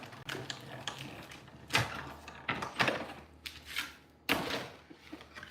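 A Stampin' Up! embossing machine cranks layered plates through, giving a run of close mechanical clicks and ratcheting bursts with a few louder thuds, alone without talk.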